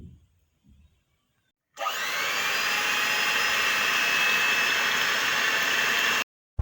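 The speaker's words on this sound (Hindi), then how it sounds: "इसे हम तब तक बीट करेंगे जब तक अंडा और ऑयल अच्छी तरह मिक्स ना हो जाए।" Eggs and oil beaten together in a bowl, most likely with an electric beater: a loud, steady whirring roar that starts abruptly, holds evenly for about four and a half seconds, then cuts off.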